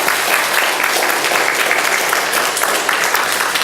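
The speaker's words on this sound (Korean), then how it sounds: "우리 감사의 박수 한번 드리겠습니다." A church congregation claps in thanks for its serving members, dense continuous applause filling the room at full volume from start to finish.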